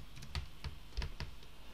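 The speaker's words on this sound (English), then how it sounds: "I will type New York." Keys are tapped on a computer keyboard to enter a search location, a short burst of about eight light, close clicks in quick uneven rhythm, with no talk.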